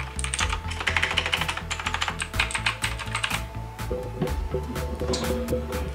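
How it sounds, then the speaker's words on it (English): Clicky typing on a Redragon gaming keyboard fitted with MX Blue switches, a dense, steady stream of sharp close keystroke clicks with no talking. "So I got the model with the blue switches. Oh my god, that is so clicky."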